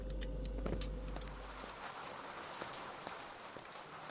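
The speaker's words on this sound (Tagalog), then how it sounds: "Kaya ngayon umuulan sa labas" Steady rain falling outside, a soft continuous hiss of drops with scattered faint ticks, heard from indoors at low level with no talking.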